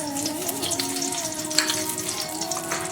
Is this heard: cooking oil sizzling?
yes